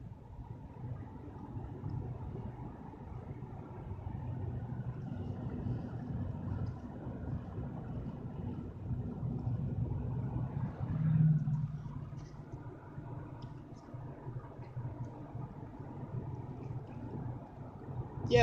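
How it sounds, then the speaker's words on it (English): Strong, very cold wind blowing outdoors under a clear sky, a steady low rumbling roar across the whole stretch with a brief gust swelling partway through and no talking. "we getting a lot of wind today. That wind is blowing,"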